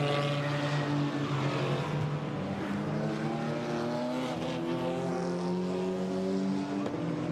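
GT4 race car passing during qualifying at Zandvoort: a steady, loud, droning engine note held throughout, pitch shifting slightly as it goes by, with a brief sharp click near the end.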